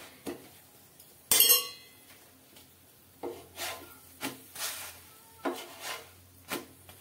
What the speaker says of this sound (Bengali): খুন্তির সাহায্যে এভাবে তেলটা দিয়ে ভালোভাবে চারপাশে লাগিয়ে ঘুরিয়ে ঘুরিয়ে ভেজে নিতে হবে